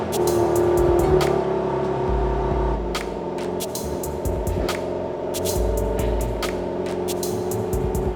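A BMW G82/G01 rolls slowly back and forth on freshly fitted 5x112 wheel spacers, giving a low, steady mechanical rumble with a faint hum and scattered light clicks and ticks throughout.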